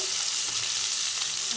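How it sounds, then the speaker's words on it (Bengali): Chopped onion, green chilli and ripe tomato sizzle hard in hot oil, a dense, steady frying hiss close up, with faint stirring scrapes and no talk. "পেঁয়াজ কুচি ফোড়নে দিচ্ছি, কাঁচা লঙ্কা দিয়ে দিচ্ছি, একটু পাকা টমেটো দিয়ে দিচ্ছি"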